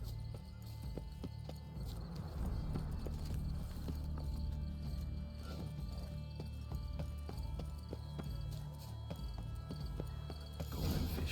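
Horse hooves clopping in The Witcher 3, a steady run of rhythmic hoofbeats close by that carries through the whole stretch, with game ambience underneath and no talk.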